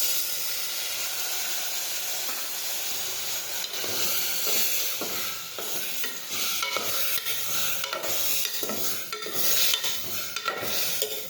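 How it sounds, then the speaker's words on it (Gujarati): Stuffed brinjal cooking in a hot pressure cooker pan, with water added so it hisses and sizzles steadily, broken by stirring scrapes and light clinks of a utensil against the pot; close and continuous, no voices. "હવે આપણે થોડું પાણી ઉમેરીશું."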